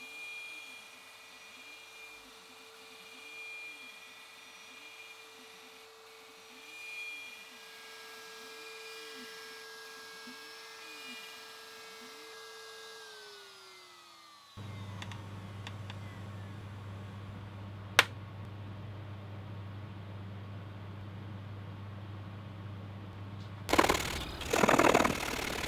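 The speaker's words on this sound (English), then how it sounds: "Now I can cut the inlay and cut the sound hole." A CNC router cuts a rosette inlay and sound hole into a wooden ukulele bass top, a steady whining drone with a rising, swelling pitch, then a louder, rougher grinding hum after a shift, ending in a burst of harsher noise.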